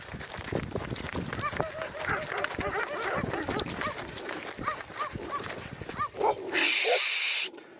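Several dogs, kangals among them, bark and yelp close by on a farm with strays, loud and overlapping, with clattering movement, and a sharp burst near the end.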